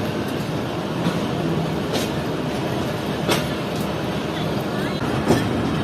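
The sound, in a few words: Fareed Express train moving on the rails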